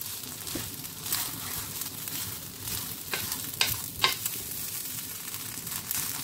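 Rice for Nigerian jollof rice frying on low heat in a pot, with a steady soft sizzle and a few scraping stir strokes coming through clearly, close up and without talk.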